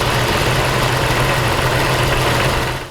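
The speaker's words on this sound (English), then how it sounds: "you can hear this one is running real rough and it has like a knock to it" 1997 Jeep Cherokee engine idling rough, a steady close-up low throbbing rumble with an uneven pulse and broad mechanical hiss, running alone before cutting off at the end.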